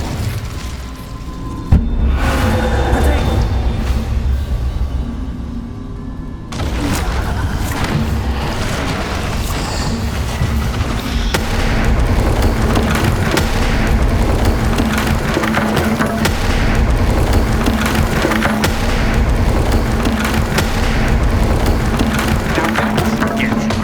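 A fire spell cast in the Hogwarts Legacy video game, heard as a sharp burst followed by a sustained, roaring, crackling blaze with splintering debris that holds loud and dense for most of the stretch.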